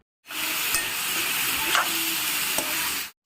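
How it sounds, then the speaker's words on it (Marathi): Chicken sizzles loudly in a tempering of hot oil with onion, salt and turmeric, a steady dense frying hiss with a few stirring clinks, close and alone. "त्याला दिली फोडणी तेल कांदा मीठ हळद याची फोडणी"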